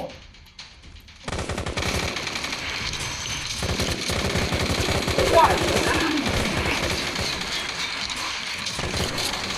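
Rapid automatic gunfire rattles almost nonstop while fighting ghosts in a video game, loud and dense bursts after a brief quiet start, with a voice talking over it.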